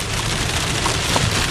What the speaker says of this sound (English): That's where the rain falls.